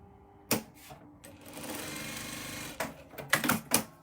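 A sewing machine stitches rows of small fabric squares together for a quilt, a close rhythmic mechanical chatter in short bursts with brief pauses between runs.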